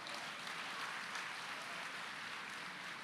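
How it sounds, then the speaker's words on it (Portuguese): Church congregation applauding at a women's conference session, a steady, dense wash of clapping held at even loudness throughout, with no voices over it. "Aplauda o Senhor."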